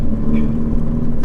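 A Mini GP2 tuned to 278 bhp stage 2 revs hard on the road, a loud, close, sustained engine drone with a steady pitched hum.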